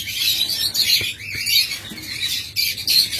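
A pair of caged high-mutation lovebirds squawk repeatedly in harsh, close bursts, chattering almost without pause and with no voices over them.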